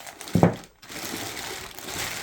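A brief burst of plastic bag crinkling, close and fairly loud, as a flashlight is put into a bag for a glass-smashing test, followed by a quiet rustling background.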